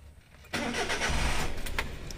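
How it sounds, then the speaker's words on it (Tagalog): A Suzuki DA64W mini van engine cranks and catches at once, then settles into a steady close, loud idle with no talking. "Ayan, naka-start na yung sasakyan."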